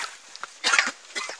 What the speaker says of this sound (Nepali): यो हाम्रो साथीले यहाँ खोकी लागिरहेछ